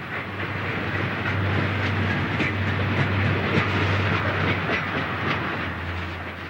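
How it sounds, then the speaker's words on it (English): A westbound freight train struggles up the last half mile of a 1.5% grade at the East Tunnel portal on Tennessee Pass, with a steady loud rumble, a deep droning engine note and rhythmic wheel clatter, continuous throughout. "A westbound freight back at the East Tunnel portal is struggling to get over the last half mile of the"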